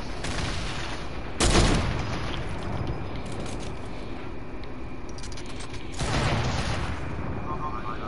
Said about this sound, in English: Oh, they're firing off grenades.